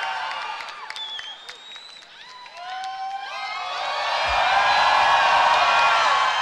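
A large outdoor concert crowd cheers, whoops and shouts for the performers at Camp Flog Gnaw 2023. The cheering swells from scattered high yells into a loud, sustained roar of applause.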